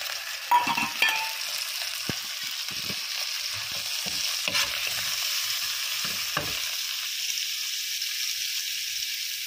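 Shrimp sautéing in butter with garlic in a pan: a steady, close sizzle and frying hiss, with occasional clinks and scrapes of stirring breaking through.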